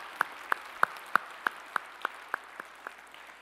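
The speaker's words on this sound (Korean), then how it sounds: "우리의 찬양을 받으실 주님께 영광의 박수 올리겠습니다." A church congregation at a Sunday worship service claps in slow unison after a choir performance, about ten evenly spaced sharp claps that soften slightly toward the end in a quiet hall.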